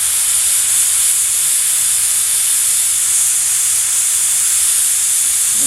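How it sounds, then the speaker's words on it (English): Steady, loud steam hiss rising from a pot of chicken noodle soup cooking over medium-high heat, a continuous broadband rush with a faint low rumble beneath and no talking. "It's hard to see the steam on the camera, but it's there and you can hear it."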